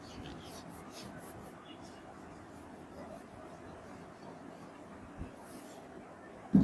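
Handwriting during a physics lesson working through a numerical problem on the laws of motion: a soft, continuous scratching and rubbing that runs steadily throughout, faint and close, with a brief louder knock near the end.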